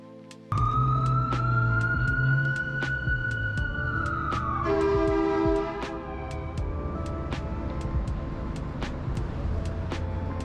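A wailing emergency siren sweeps up and down nearby on a downtown Reno street at night, then switches to a faster yelp pattern before settling into a lower, steady rumble of traffic.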